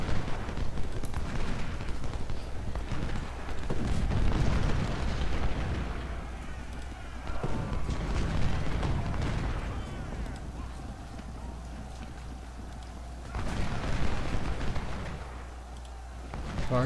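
Artillery fires in the Ultimate General: Civil War video game, repeated deep booming rumbles rolling in and out over a dense battle din, with a voice talking over it at times.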